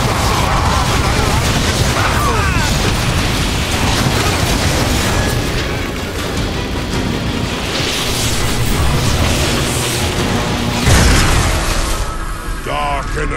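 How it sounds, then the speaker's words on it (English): Dense booms and bursts of explosions in the Transformers War for Cybertron video game rumble continuously at close range. Heavy battle noise and voices overlap throughout, with a sharper blast near the end. "One more explosion."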